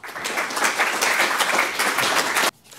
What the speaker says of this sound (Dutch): Een heel groot applaus voor Geert Jansen.